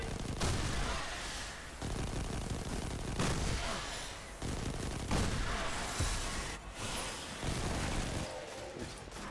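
Gunfire rattles in rapid, dense bursts while shooting crystals in Destiny 2, loud and continuous with brief gaps between volleys.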